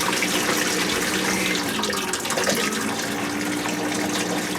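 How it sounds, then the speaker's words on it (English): Water running from a Rinnai tankless water heater into a bucket underneath, a loud steady gushing splash that stays constant and close with no voices. "I apologize for the water running into the bucket underneath"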